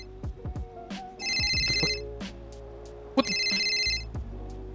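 A phone in GTA 5 rings in two short bursts of electronic trilling over low game ambience and a few soft clicks.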